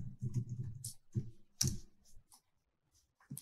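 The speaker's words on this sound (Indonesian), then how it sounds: "tinggal diketik saja madrasah di sini" Fingers tap on a computer keyboard with quick, close, light clicks in short bursts, pausing briefly before a final keystroke, with no voices.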